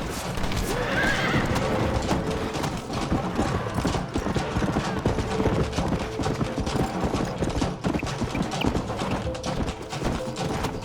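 Horses in the Red Dead Redemption video game gallop with rapid, rhythmic hoofbeats and let out whinnies and neighs, loud and close throughout the scene.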